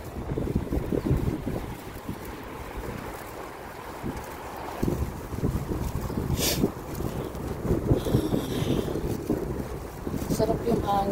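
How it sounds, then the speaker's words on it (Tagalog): Cool outdoor wind gusts across the microphone in a steady rumble, with faint water or boat sounds underneath and occasional brief noises. "Malamig yung hangin kahit mainit."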